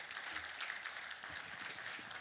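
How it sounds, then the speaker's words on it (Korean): Church congregation clapping in welcome during a Korean Sunday worship service, a dense, even wash of applause at moderate distance, quiet and sustained without a clear peak. "박수로 환영합니다."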